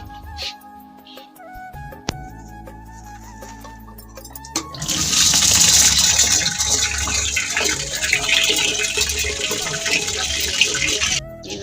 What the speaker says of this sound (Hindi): आपके पास जो भी बर्तन हो उसमें पानी अब डालेंगे